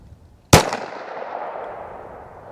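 A single sharp gunshot from a .22 Magnum pistol with a 4.5-inch barrel, loud and close, its crack followed by a long fading ring-out.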